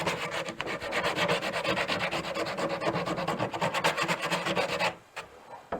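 Sandpaper rubs along the edges of a painted wooden cabinet to distress it, a close, steady rhythmic scratching of quick back-and-forth strokes that ends abruptly, followed by quiet.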